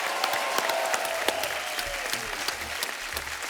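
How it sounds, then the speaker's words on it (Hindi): Applause from a TV comedy show studio audience fills the clip, fairly even and moderately loud, with a faint tonal sweep passing in the background. "जोरदार तालियां"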